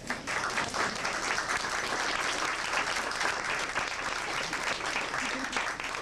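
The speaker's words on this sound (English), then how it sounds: "the crowd started clapping their hands" A crowd claps their hands at showtime, a thick, sustained roar of applause that stays loud and even throughout with no break.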